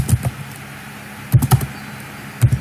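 Keystrokes on a computer keyboard come in short clustered bursts separated by pauses, fairly close and clear, with no talking over them.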